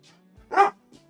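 A single dog gives one short, sharp bark close by, with a faint yip before it and a soft trailing sound after, in a quiet room.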